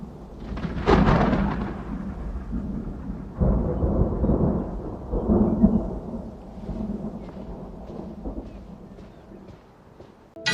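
Sudden thunder rolls in a dramatic scene, a loud low rumble with bursts building around the first seconds and again mid-clip, then fading into a softer grumbling tail.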